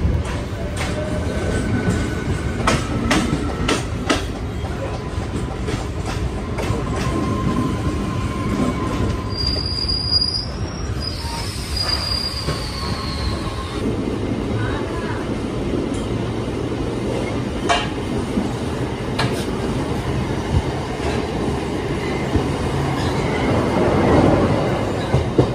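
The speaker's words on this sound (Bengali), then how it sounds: "বিধাননগর রোড স্টেশন স্কিপ করছে, কিন্তু এর আগে লোকাল ট্রেন থাকায় একদম স্লো।" A Sealdah–Godda fast passenger train rolls slowly past Bidhannagar Road station, its steady, loud rumble of wheels on rail carrying through, with metallic squeals and a brief high screech partway along.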